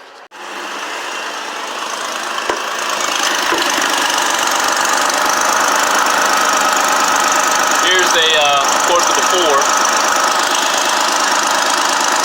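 A 2006 Dodge Magnum with the 3.5 engine runs steadily with a loose, leaking exhaust manifold, giving a continuous loud idle with a ticking, knocking edge; someone speaks briefly over it.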